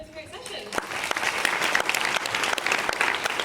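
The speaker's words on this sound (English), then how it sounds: "So give her a round of applause" An audience at a women-in-tech conference session claps after a speaker introduction, with a steady burst of applause rising from quiet and continuing at full strength to the end.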